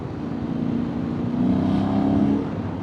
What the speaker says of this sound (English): How is the engine sound?